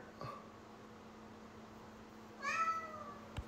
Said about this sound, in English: They got cats.